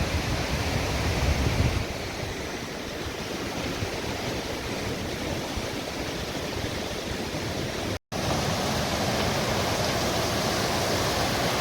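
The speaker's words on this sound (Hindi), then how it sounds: "ये झरनों से बनी हुई नदी है, तो झरनों से बह के आ रही है।" A broad mountain river fed by waterfalls on an alpine trek to Satopanth Lake roars steadily, a dense loud rush of water that barely changes, with one brief cut near the end.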